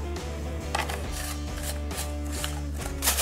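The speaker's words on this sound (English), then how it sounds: "Just gonna shake it up till it looks evenly distributed" A seasoning mix of salt and pepper is shaken in a container to spread it evenly, producing a rhythmic series of about eight scraping, rattling shakes, close and moderately loud, with a steady hum underneath and no talking.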